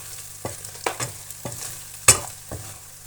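A spoon stirs spices for aloo gobi in a hot pan, giving quiet frying and scraping with about five distinct strokes at an uneven pace, one sharper clink among them.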